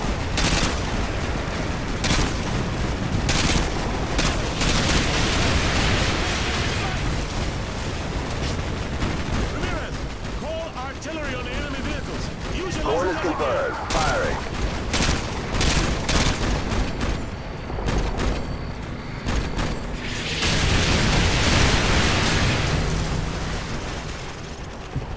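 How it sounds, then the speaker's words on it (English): Artillery strikes and heavy gunfire rumble and crack through a Call of Duty: Modern Warfare 2 battle, a dense, continuous barrage of booming impacts and bursts lasting throughout, with voices speaking over the combat. "Artillery inbound."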